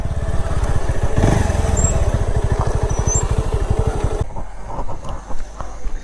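A motorcycle parked beside a Shiva temple under construction in Nagaon, Assam, runs with a steady, close, throbbing engine note for about four seconds, then cuts off abruptly, leaving quiet background noise.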